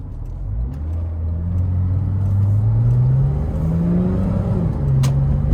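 A 2009 second-generation facelift Porsche Boxster S engine revs up through the gears, a loud, close rising drone that climbs in pitch, then shifts and climbs again, with no voices over it.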